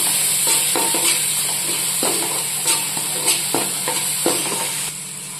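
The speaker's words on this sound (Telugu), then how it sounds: "మనం వేసిన మసాలా ముద్ద కూడా ఆయిల్లో ఫ్రై అయింది కదండి." Coriander masala paste fries steadily in hot oil for a fish curry, a continuous close sizzle marked by recurring scraping stirs of a spoon against the pan, with no voices.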